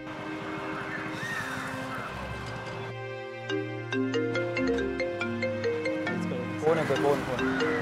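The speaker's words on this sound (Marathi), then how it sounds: "फोन येतोय, फोन." An incoming-call phone ringtone plays a loud, continuous melodic tune of repeating tones for several seconds, filling the scene without a break.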